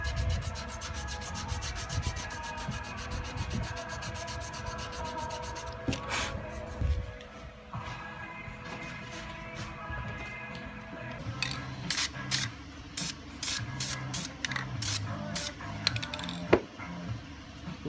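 A steering wheel is sanded by hand with 180-grit sandpaper during a restoration, making continuous close rasping strokes that turn into quicker, brighter scrubbing rhythms toward the end, with a faint clink near the finish.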